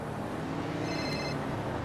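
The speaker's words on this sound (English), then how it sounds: "Oh, I got a phone call here." A phone rings faintly in the GTA 5 game, a short electronic trill lasting under half a second over a low steady background hum.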